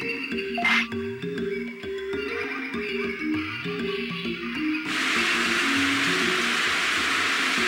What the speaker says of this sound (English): I use the rain blaster.